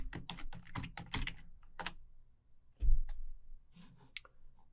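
A command is typed on a computer keyboard at a Metasploit command line: a quick run of crisp keystrokes, a short pause, one heavier key thump, then a few scattered taps.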